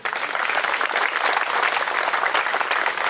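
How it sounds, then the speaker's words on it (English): A large outdoor audience at a 9/11 responders memorial park ceremony claps steadily and loudly throughout, with dense, even applause and no talking. "How about a big round of applause for Mr."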